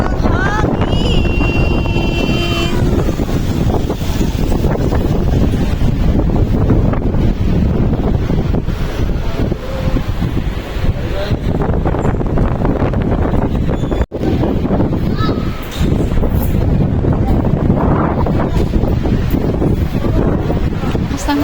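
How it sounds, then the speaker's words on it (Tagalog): Strong wind buffets the microphone in a constant loud roar on a rainy trip to the airport, with faint voices and motion noise underneath. "Lakas ng hangin."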